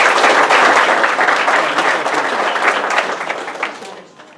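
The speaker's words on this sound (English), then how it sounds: "Please give her a round of applause." An audience gives a loud, sustained round of applause for a guest speaker at a business gathering, dense clapping that carries strongly before thinning and fading out at the end.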